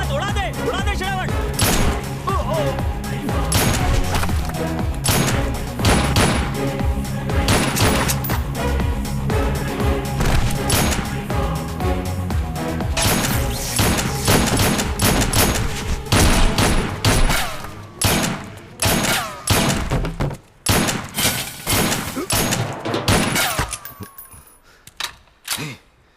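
Gunfire fills an action movie scene as dense, rapid volleys under a music score, then breaks into sharp separate shots, loud and close, with voices shouting among them.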